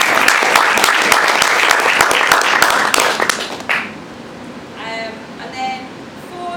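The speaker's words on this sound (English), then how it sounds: "We'll give him a clap." Audience applause for a Vice Chancellor's speech about the Southampton Astrodome, dense clapping for several seconds that breaks off abruptly, followed by faint room noise with brief voice-like tones.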